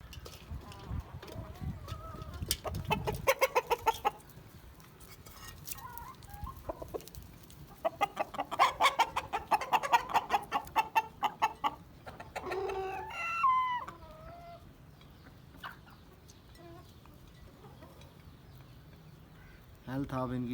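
Desi hens on a small home poultry farm cluck in busy bursts, with a rooster crowing partway through; someone talks at times over the flock.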